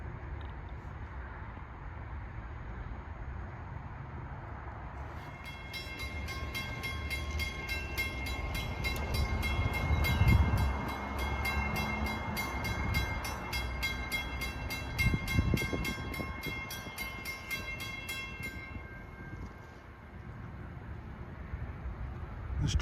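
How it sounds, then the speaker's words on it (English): A Long Island Rail Road train hauled by a DE30AC diesel locomotive approaches on the Montauk Branch east of Babylon, its rumble swelling as a long, loud sustained horn blast sounds, then fading away. "Approaching at 6:47 is train 82 with DE30AC engine number 416, with a horn that most certainly would not be allergic to kryptonite"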